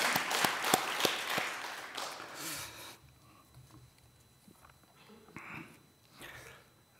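A church congregation applauds during a Sunday worship service, a few seconds of sharp scattered clapping that fades out, followed by quieter room noise and faint murmurs.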